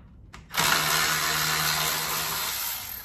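A power tool whirs loudly and steadily for a few seconds, close up, while screws are removed from the grill of an Audi R8 during a mesh grill install, spinning up abruptly after a brief quiet lead-in.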